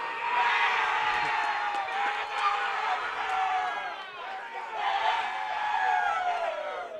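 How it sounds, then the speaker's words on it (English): Spectators at a duckpin bowling match cheer and shout loudly after a double, a crowd roar with whoops and raised voices rising and falling over several seconds, close and lively. "I think the crowd liked that double by We Biker."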